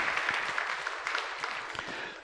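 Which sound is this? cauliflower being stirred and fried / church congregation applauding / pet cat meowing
church congregation applauding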